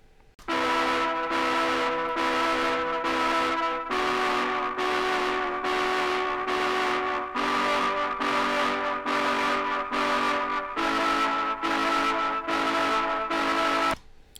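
A sustained, breathy flute synth tone recorded through a Retroactive Pedals Iso Cab plays a series of repeated phrases with slight gritty coloration, steady and fairly loud throughout.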